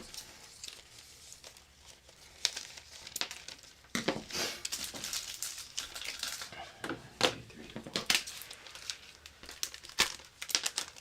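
Scissors snip and crinkle through transfer silkscreen pieces. The crisp cuts and rustles come close and irregular, bunching into bursts of cutting with small gaps between them.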